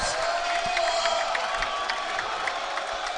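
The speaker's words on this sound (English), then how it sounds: "And the crowd loves it." A packed gym crowd roars and cheers steadily at a Skyline Conference basketball championship win between the Yeshiva University Maccabees and Purchase College, a dense, continuous wall of shouts and whoops with scattered claps.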